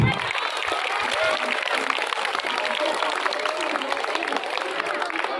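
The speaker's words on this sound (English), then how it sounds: "give them a good clap" Students at a convent high school Teacher's Day celebration clap for honourees, a continuous busy crowd clapping at moderate volume with a few voices audible underneath.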